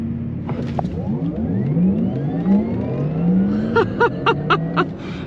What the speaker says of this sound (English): So people, let's do a race start, shall we?